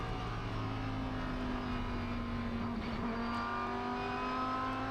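Onboard a race car during qualifying at the Sugo circuit in Japan, the engine a loud, continuous close drone with steady, sustained pitch, no voices over it.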